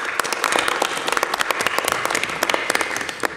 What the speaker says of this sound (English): but we should give the Mayor a round of applause as well.